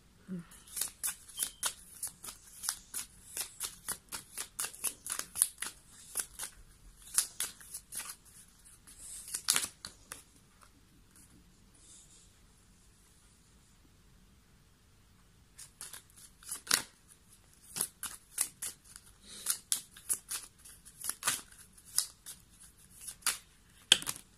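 Fortune-telling cards are shuffled repeatedly in quick, crisp riffling bursts close to the microphone, with a quiet pause in the middle before the brisk shuffling resumes.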